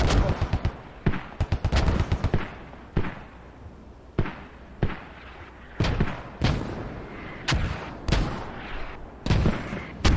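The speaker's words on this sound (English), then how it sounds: "These mortars, man, just absolutely annihilating this line coming from the main base" Video game mortar fire hammering a line of troops, a rapid series of sharp booming blasts, some clustered in quick bursts and others spaced out, loud and close throughout.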